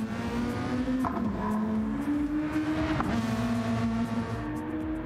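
A race car laps Mt Panorama in the Flatout racing game, its engine droning loud and continuous with rising and falling revs through gear changes and brief tyre noise.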